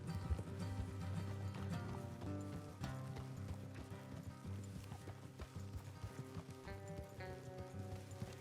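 Horses from Red Dead Redemption 2 clip-clop along at a steady run, the rhythmic hoofbeats continuous and moderately loud beneath a low game soundtrack.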